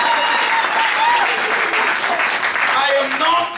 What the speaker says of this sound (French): Applaudissez pour le Seigneur Jésus-Christ.